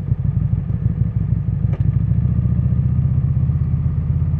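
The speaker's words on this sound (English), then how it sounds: "Whenever we get a green light, I want you guys to listen to the engine." A 2024 Buell Hammerhead 1190 motorcycle's engine idles at around 1500 to 1700 rpm with a loud, close, steady lumpy throb, and a brief clack marks a gear being clicked out of neutral.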